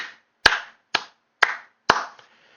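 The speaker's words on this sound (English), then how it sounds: "Round of applause to them." Four sharp, evenly spaced hand claps, close and crisp, each ringing briefly before silence.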